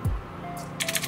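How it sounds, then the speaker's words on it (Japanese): Keys are typed on the keyboard of an ASUS X205TA laptop, a junk unit under repair, giving a short quick burst of light, close clicks near the end. "このキーボードで打てますね。"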